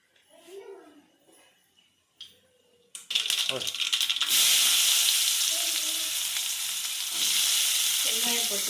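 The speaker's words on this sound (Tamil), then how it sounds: "எண்ணெய் ஊற்றி வச்சு உருண்டையை தாளிக்கிறதுக்கு கடுகு போட்டுக்கலாம்." Mustard seeds are dropped into hot oil for tempering a lentil-ball kuzhambu, bursting into a loud, close crackling sizzle with popping that continues steadily after a brief stretch of speech.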